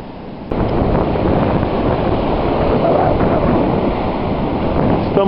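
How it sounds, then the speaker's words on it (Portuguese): Mediterranean Sea surf at Caesarea, a loud continuous wash of waves mixed with heavy wind buffeting the microphone, steady and close throughout. "Estamos aqui novamente aos pés do mar Mediterrâneo"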